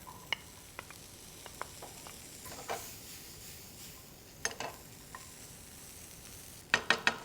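Fenugreek leaves and blanched green peas sautéing in a pan give a steady low sizzle, with scattered light spoon taps against the metal and a quick run of louder clinks right at the end.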